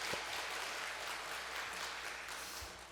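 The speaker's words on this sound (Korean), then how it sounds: "우리 격려와 축복의 박수 한번 할까요?" Church congregation at a Wednesday worship service applauding the worship team of accompanist, drummers and singers, a steady wash of clapping throughout.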